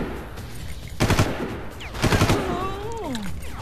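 Machine gun fire in the Far Cry shooter, two loud sustained bursts about a second apart, with a voice talking over and after the shooting.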